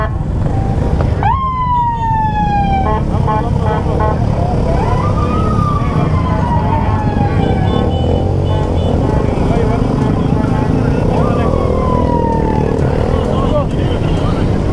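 Police sirens wail and yelp over loud traffic noise at a large motorcycle ride at the Monumento a la Revolución in Mexico City, several rising and falling sweeps close by, with brief whoops between them.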